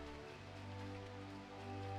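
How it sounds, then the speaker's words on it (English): Soft, steady rain falls in Final Fantasy XIV: Heavensward, a faint continuous patter that carries through the whole stretch with no talking. "It's raining."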